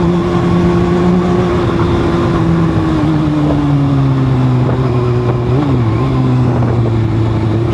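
Kawasaki Z1000 motorcycle engine droning at steady high revs, the pitch easing down gradually with a brief wobble late on as the bike banks through a turn, loud and constant with no talk.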